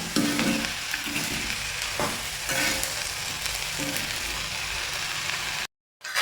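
Chopped chillies are stirred in a hot pan, giving a continuous sizzle with rougher scraping strokes, then a brief drop to silence near the end.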